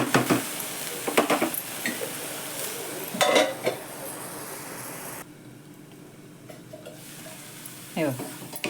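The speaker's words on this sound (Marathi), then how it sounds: "बघा लगेच ही भाजी अशी शिजायला सुरुवात होते" Winter vegetable with large green chili pieces cooking in a pan: a steady close sizzle with a few scraping stirs, then the sound drops to a quieter, muted bubbling about halfway through, with one more brief scrape near the end.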